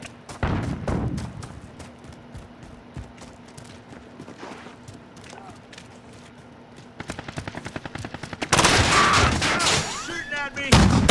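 Gunfire in Call of Duty: Modern Warfare, rapid automatic bursts of varying distance building to loud, dense close-range firing near the end, with scattered single shots and brief radio chatter.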